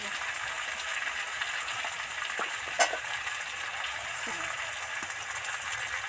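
Mixed vegetables fry with spices in oil in a pan for a Bengali vegetarian dish, giving a steady, moderate sizzling hiss throughout with a faint clink partway through.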